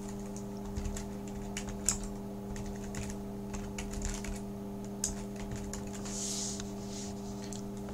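Irregular bursts of keystrokes on a computer keyboard, light close clicks in short clusters over a steady electrical hum, with a soft rustle near the end.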